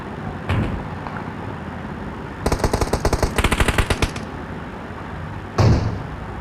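Gunfire in a PUBG tournament match: an isolated shot, then a rapid burst of repeated automatic rounds lasting nearly two seconds, followed later by one loud single sniper-like crack, all fairly near over quiet game ambience.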